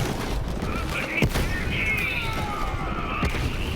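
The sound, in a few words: shotgun firing in Borderlands 3 video game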